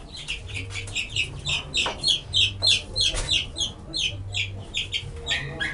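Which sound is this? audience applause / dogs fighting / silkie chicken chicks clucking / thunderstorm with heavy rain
silkie chicken chicks clucking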